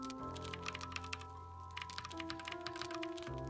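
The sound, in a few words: clicky menu noises in the video game Heartworm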